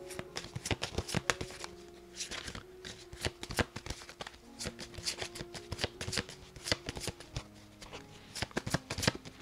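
Tarot cards being shuffled by hand during a reading, a long run of crisp riffling slaps and flutters in quick irregular bursts, close and fairly loud, with no talking.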